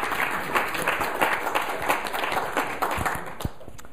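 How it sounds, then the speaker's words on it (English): An audience gives a round of applause as a speaker is welcomed to the stage, steady mixed clapping from a modest crowd with a few louder individual claps standing out near the end. "Please give her a round of applause."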